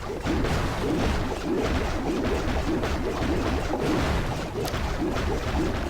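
A golem smashing defenses in the Clash of Clans video game: dense, continuous clattering impacts and crashes in rapid rhythmic succession with whooshing battle noise, loud and busy throughout without talking.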